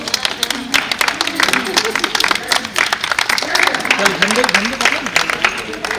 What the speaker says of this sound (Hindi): सिर्फ ताली बजा के वेलकम किया जा रहा है